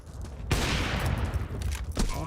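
Gunfire in the tactical shooter Counter-Strike during a pro tournament match, a dense, loud burst of rapid shots and impacts rolling on for about two seconds, with cracks and clatter layered under commentary.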